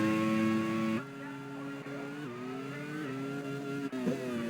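A Minardi Formula One car in a racing game screams at high revs, its engine pitch stepping through quick upshifts and downshifts as it runs close and loud.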